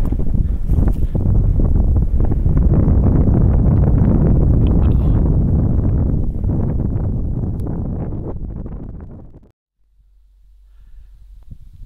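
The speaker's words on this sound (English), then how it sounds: "Beautiful day, getting a little windy." Strong gusts of wind on a mountain ridge near Buffalo Peak, in Idaho's Danskin Mountains, buffet the microphone with a loud, rough rush that fades away abruptly near the end, leaving near silence.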